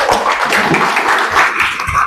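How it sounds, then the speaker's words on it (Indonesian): At a teachers' appreciation event in Tegal, an audience claps for the winner of a quiz game, close, loud and dense clapping with a few cheering voices mixed in. "Tepuk tangan buat Elza dong."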